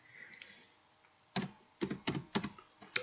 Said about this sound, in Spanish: vamos a poner aquí la contraseña